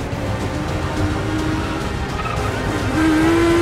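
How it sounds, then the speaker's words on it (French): A motorcycle chase roars through the streets of Paris in Mission: Impossible – Fallout, with a dense, continuous engine drone and traffic noise, and a rising engine whine that swells louder near the end. "Ah, la fameuse cascade de Tom en moto dans Paname."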